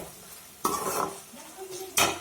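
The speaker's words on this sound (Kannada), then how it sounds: "ಎಣ್ಣೆಲಿ ಚೆನ್ನಾಗಿ ಬಾಡಿಸ್ಕೋಬೇಕು." Garlic, onion and dried chillies frying in oil in a pan, with two sharp bursts of stirring and scraping against the pan over a faint low sizzle.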